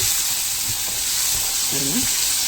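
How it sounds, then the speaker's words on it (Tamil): Peeled small onions (shallots) sauté in a pan for a country-chicken curry, making a loud, steady, close sizzling hiss that runs throughout with faint stirring scrapes and no talk. "ஒரு 20 சின்ன வெங்காயம் கிட்ட உரித்து இதையும் வதக்கிக்கலாம்"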